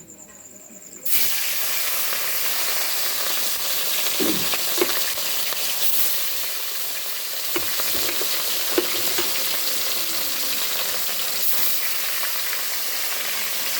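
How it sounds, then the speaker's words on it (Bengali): Katla fish sizzles loudly in hot oil in a pan after a quiet start. The frying hiss is steady and close, with occasional faint knocks from turning the pieces. "মাছগুলো ভেজে নিচ্ছি।"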